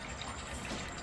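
A water pump runs steadily in the game Black Mirror II, giving a continuous broadband rushing, gushing hum like flowing liquid, even and unbroken throughout at moderate level.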